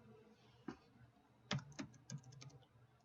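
Computer keyboard typing, a few separate clicks and then a quicker run of keystrokes, close and quiet with no talking.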